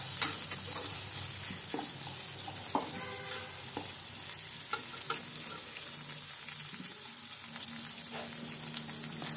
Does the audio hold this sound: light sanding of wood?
no